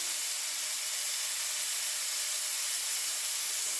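Meat searing in a pan under a lid, giving a steady, dense hiss that holds at a constant level throughout, close and fairly loud with no talking.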